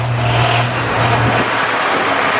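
A pulling tractor's engine roars steadily and loudly at a tractor pull at the Sandwich Fair in Illinois, a continuous throaty drone with no break.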